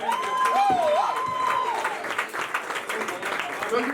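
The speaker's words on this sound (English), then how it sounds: "Let's give a round of applause for Jackson Anderson." Audience at a holiday open mic night in a Waco bar clapping for the next performer, a steady crowd applause with whistles and a cheer rising over it.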